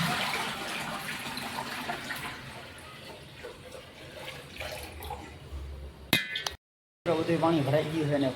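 Water runs steadily from a tap, a broad rushing flow that fills the scene before a brief clatter, a short silent gap, then renewed splashing with a voice talking over it.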